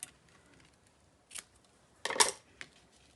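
Scissors snip a paper sentiment strip for a handmade greeting card, with a couple of soft cuts followed by a louder, crisp burst of snipping and one final close snip, without any talk.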